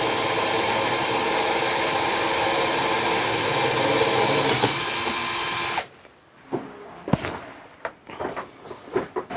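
A power drill whines steadily at close range for several seconds while re-drilling holes for boat through-hull fittings, then stops, followed by a few clicks and handling noises.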